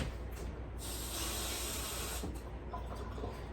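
Running water sprays hard into a small bowl as it is rinsed out, a steady close hiss that swells in the middle and eases slightly toward the end.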